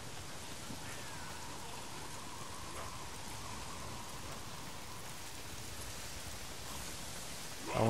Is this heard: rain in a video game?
yes